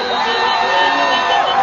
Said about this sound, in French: une foule joyeuse salue à Kigali l'entrée du FPR